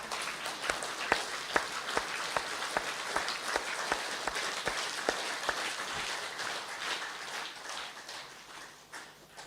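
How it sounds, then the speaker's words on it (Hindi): Gathered listeners at a spiritual talk clap steadily, with sharp individual hand claps in a fairly regular rhythm over a bed of broader applause that thins out toward the end. "थोड़ी तालियां बजाओ भाई सारे।"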